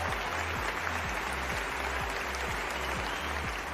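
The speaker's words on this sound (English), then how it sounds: "that deserves a huge round of applause." Audience applause at an awards ceremony for the Vespa Elixir Honours 2020, a steady, dense wash of clapping that holds at an even level throughout, with a low rhythmic thump running underneath.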